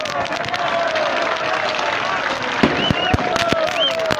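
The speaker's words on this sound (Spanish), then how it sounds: "¡Un fuerte round de aplauso!" Crowd applause at a political rally for Evo Morales in Oruro, Bolivia: sustained clapping and cheering from a large gathering, with whistles and shouting voices rising through the dense, steady noise.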